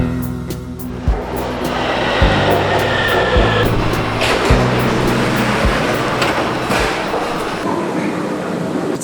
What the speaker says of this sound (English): Today we're jumping on Line 9, which is actually the second longest metro line in Shanghai